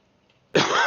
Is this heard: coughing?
yes